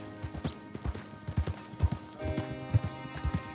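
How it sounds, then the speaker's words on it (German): Horse hooves clop at a steady riding gait in Red Dead Redemption 2, an even rhythmic series of dull thuds over a soft background of low music. "So, wir reiten mal weiter."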